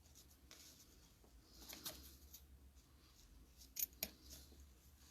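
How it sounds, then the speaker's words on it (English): Sharp scissors snipping through two ribbon tails held together, a few quiet rubbing and handling sounds followed by two crisp close cuts in quick succession, with no talking. "I hold them together and I cut them both at one time. Make sure you have a nice pair of sharp scissors."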